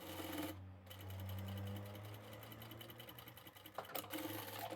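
Sewing machine stitching a hidden triangle pocket into the corner of a beach towel, a steady mechanical whir that runs almost the whole time, with a brief pause and a few clicks near the end.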